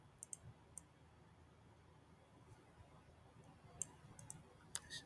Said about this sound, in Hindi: Right click, search Google.